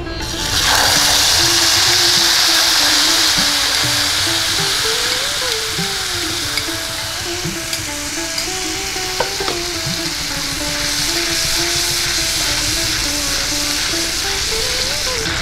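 Ground turmeric and sour yogurt hit hot mustard oil in a pan, giving a loud, steady frying sizzle with hissing steam, continuous and close throughout, with occasional stirring clinks and no talk.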